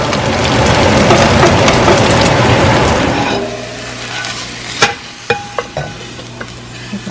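Eggs and batter fry loudly in a pan while being stirred, a dense close sizzle for about three seconds that then drops to a softer hiss broken by several sharp utensil clicks and scrapes, with no talking.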